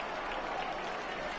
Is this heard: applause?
yes